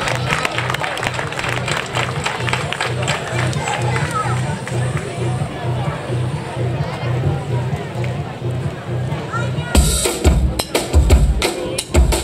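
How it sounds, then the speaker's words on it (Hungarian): Audience applauding dancers from a dance studio performance: rhythmic clapping in a steady beat with crowd noise and voices throughout, then a louder burst of cheering and clapping near the end. "Nagy tapsot nekik!"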